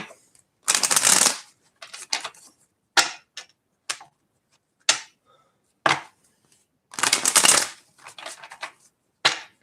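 Lenormand oracle cards being shuffled by hand in several quick, crisp bursts of riffling and tapping, close and fairly quiet, with short pauses between them and no talking.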